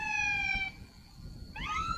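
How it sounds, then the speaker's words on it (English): A warning siren sounds ahead of a Starship SN8 static fire test, its rising and falling wail heard from a distance, fading and then swelling again over a faint background. "Yeah, so that's probably the 10-minute siren ahead of a static fire."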